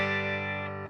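One sustained Telecaster chord through a Morgan RCA35 amp rings out clean and bright, holding steady before being cut off abruptly.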